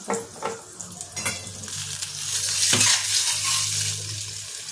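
Masala of turmeric, Kashmiri red chili and salt frying in a pan for dhaba-style egg curry, a steady close sizzle with stirring scrapes and a few utensil knocks against the pan.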